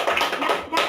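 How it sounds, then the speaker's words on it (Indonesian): A short burst of dense clapping from a classroom of children, lively and fairly loud, with faint voices mixed in. "Tepuk tangan buat Ilham."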